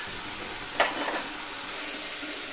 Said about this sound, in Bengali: সমস্ত মশলাগুলো একটু ভালোভাবে কষিয়ে নিতে হবে, যাতে মশলার কোনো কাঁচা গন্ধ না থাকে